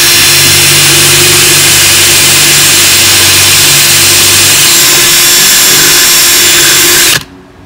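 A power tool drills a drainage hole in a broken ceramic pig figurine, a loud, steady whining buzz close by that runs for about seven seconds and then cuts off abruptly.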